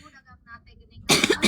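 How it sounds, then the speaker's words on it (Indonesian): A person coughs harshly and loudly twice right after a stretch of faint speech, close and abrupt. "Nah, itu batuk lagi kan."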